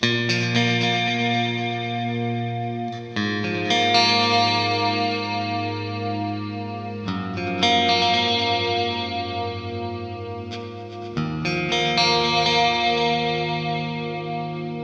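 Clean electric guitar with a shimmering chorus effect, chords ringing out in several sustained phrases with no voices.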